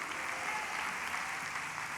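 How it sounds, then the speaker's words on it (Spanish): Church congregation applauding at a Santiago en Llamas 2023 service, a brief steady wash of clapping heard at moderate distance. "Le das aplauso."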